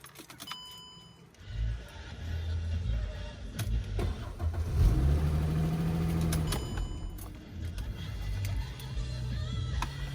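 Keys jingle close by, then a Mercedes C300 W204 engine cranks, catches and settles into a steady running rumble.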